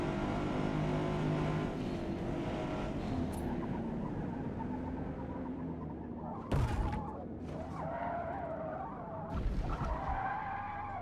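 Car in Forza Motorsport missing its braking zone in the first corner of practice, sliding off track into the cones: a long continuous skid and engine roar with sharp scraping impacts partway through, no talking.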